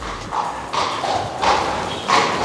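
A horse walks in a riding arena during a training session, its hooves giving soft, regular thuds, four evenly spaced beats at a steady walking pace with no talk over them.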